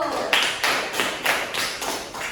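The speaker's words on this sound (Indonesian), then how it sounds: "beri aplaus untuk Putri Rahayu" A class claps together for a student, a steady rhythmic run of about seven firm claps, close and even-paced, with no talk over it.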